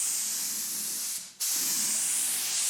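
An airbrush sprays a first coat of white paint onto a car body with a steady, close hiss that breaks off for a moment partway through and then carries on.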